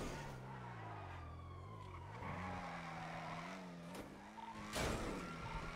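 A Dodge Durango misses a turn in a roleplay video game: its engine tone rises and falls in steady pitched bands while tires skid and squeal, ending in a sharper burst of noise, with no voices.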